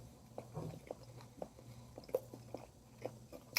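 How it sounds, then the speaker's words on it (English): Someone chewing food close to the microphone in a gym, soft rhythmic wet bites and crunches repeating every half second or so, quiet with no talk. "it's very important to chew"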